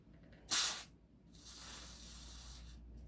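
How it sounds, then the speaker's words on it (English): A sharp, loud hiss of aerosol lithium grease spray bursts briefly, then a second, softer and longer spray follows close by. "I just normally spray a little bit on a card"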